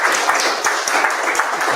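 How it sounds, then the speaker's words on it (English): A conference audience claps for a speaker after a TypeScript talk, giving a dense, even round of applause that holds steady for nearly two seconds with no voices over it. "Big round of applause for Jason."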